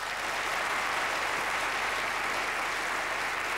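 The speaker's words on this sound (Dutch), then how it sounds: "Een applaus voor Amir" A studio audience on a Belgian television game show gives steady, dense applause for a contestant, even and unbroken from start to finish.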